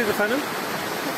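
Fırtına Stream, a mountain stream in Rize, rushes with steady broadband water noise throughout, while a voice speaks briefly over it at the start.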